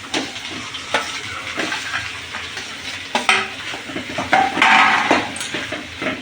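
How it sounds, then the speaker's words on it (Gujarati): Stirring mashed potato samosa filling in a frying pan with a little oil and a pinch of asafoetida, a spoon scraping and clinking against the pan over a soft sizzle, close and steady with no talk. "મિક્સ કરી લઈએ એને હલાવીને"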